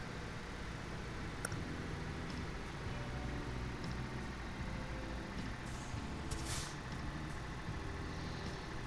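A heavy truck slowing down in Euro Truck Simulator 2 on a downhill highway, with a steady loud engine and road rumble throughout and a brief hiss of air brakes partway through.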